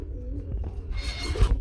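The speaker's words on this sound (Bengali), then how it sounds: "এটা একজনের গোলা কবুতর দেখাইতেছে" Fancy pigeons coo at a busy wholesale pigeon market in Bangladesh, low soft throaty calls close by, mixed with market bustle and rustling.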